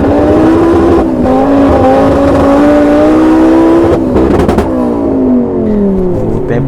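A tuned Fiat Marea Turbo with straight exhaust, making 500 hp at the wheels, revs loud and close in continuous rising and falling pulls. A brief dip comes near the start and a sharp burst of crackle around the middle.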